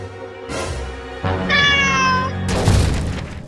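A kitten meows in a long, clear, rising-and-falling call that stands out near and loud over a bed of background music and low thumping effects.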